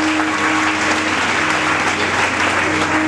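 A church congregation applauds steadily, a dense, even wash of many hands clapping throughout with no pauses, loud and close, with a faint sustained tone beneath.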